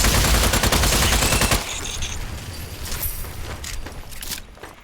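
Heavy gunfire in the video game Strange Brigade, a dense burst of loud rapid shots at the start giving way to scattered lighter shots and mechanical clicks, with no talking.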